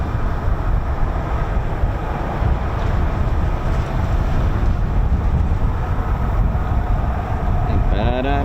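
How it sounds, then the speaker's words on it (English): Strong wind at RAF Marham airfield roaring steadily across the microphone, loud and unbroken, with a faint tonal whine rising near the end. "It is extremely breezy today, so we'll do our best to keep it a little bit steady."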